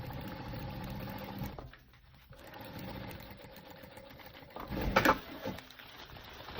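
A sewing machine stitches a medium thermal bag with straps, running in steady mechanical bursts with a brief pause midway and a louder surge near the end.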